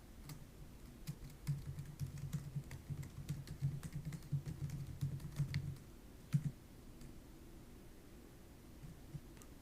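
Typing a git command on a computer keyboard at the command line, a quick run of light key clicks over roughly six seconds, then a pause and a couple of isolated keystrokes, close and fairly quiet with no talking.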